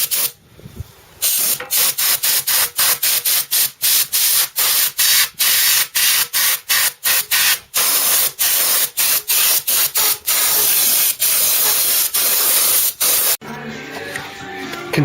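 Chrome spray paint from an aerosol can is applied to a part off a Ford Cortina GXL under rebuild, in a long run of loud, repeated hissing bursts with short gaps, ending in a louder, rougher stretch.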